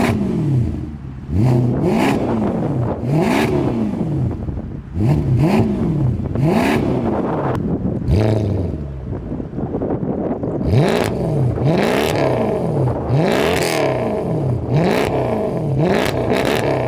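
A Mercedes C63 AMG with stock headers and a Valvetronic exhaust revs over and over, its loud engine note rising and falling in repeated sweeps, each climb ending in crackles and pops.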